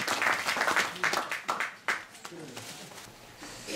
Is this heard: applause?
yes